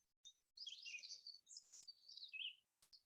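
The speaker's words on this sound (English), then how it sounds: "These birds are a beautiful reflection of joy, of happiness, of this beautiful energy we're bringing in." Birds chirp and sing in a quiet outdoor setting, with several clear, high tweeting phrases coming in short bursts separated by brief pauses, fairly faint and without other sounds.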